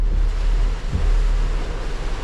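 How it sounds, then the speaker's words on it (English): Heavy rain pours in a dense, steady hiss with a low rumbling wash underneath, continuous and loud. "Oh, it's pouring."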